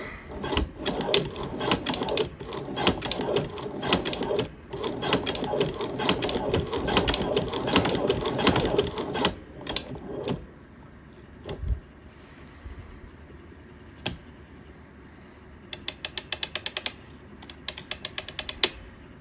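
A cobbler's shoe-mender leather sewing machine stitches 2 to 3 ounce veg tan leather. Loud, rapid mechanical clatter runs in long bursts for about ten seconds, then gives way to sparse, short runs of stitching.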